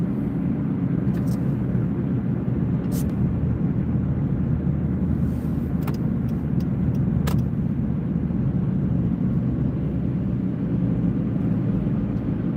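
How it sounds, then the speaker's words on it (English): Rush-hour road traffic in Vancouver, BC, rumbles steadily throughout as a continuous low roar of passing cars, with a few faint clicks and no talking. "Oh, look at the traffic."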